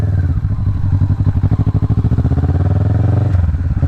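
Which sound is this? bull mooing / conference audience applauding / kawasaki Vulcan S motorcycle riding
kawasaki Vulcan S motorcycle riding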